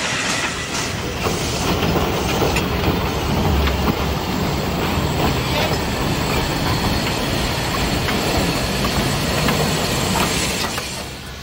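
A South African steam locomotive shunts in the Cape, close and loud, with a continuous heavy rumble, rolling wheel clatter and occasional squeal that fade slightly at the end.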